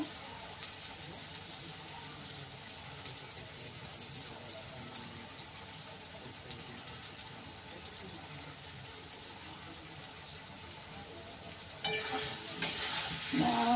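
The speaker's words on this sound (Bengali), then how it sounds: "কড়ার গায়ে মশলাগুলো যাতে ভালো করে ভাজা হয়ে যায়, ওই জন্য এইভাবে পেতে পেতে দেবে।" Spices frying in a wok and being pressed and stirred against its sides, a soft steady sizzle with scraping, turning louder and busier near the end, with no speech.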